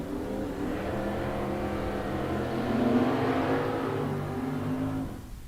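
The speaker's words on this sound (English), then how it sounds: "I hear cars rumbling around the corner" Drag racing cars rumble and rev at a bracket race, a steady dense engine drone that swells around the middle and holds before fading out near the end, with no talking.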